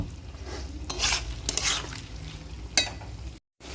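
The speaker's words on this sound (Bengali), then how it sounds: "পেঁয়াজ দিয়ে দিয়েছি, এবার ক্যাপসিকামও দিচ্ছি, সব একসাথে দিয়ে ভাজবো এটাকে।" Onion and capsicum frying together in a pan, a steady sizzle broken by a few scraping stirs and utensil clinks, close and alone with no talk.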